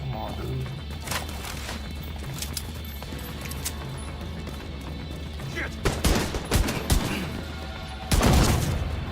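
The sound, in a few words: explosion in a video game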